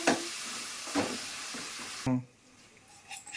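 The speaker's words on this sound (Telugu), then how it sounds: "నెక్స్ట్ టమాటా వేసుకోవాలి ఫ్రెండ్స్. టమాటా వచ్చేసరికి చిన్న ఒక 5 minutes మగ్గాలి బాగా ఆయిల్లో." Tomatoes frying in hot oil in a pan, a close, bright sizzle with a few stirring scrapes that suddenly drops to a quiet background hiss.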